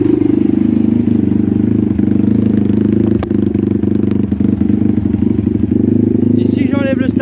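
A cold motocross dirt bike runs with the choke on, its engine ticking over in a loud, close, steady chatter while someone talks over it.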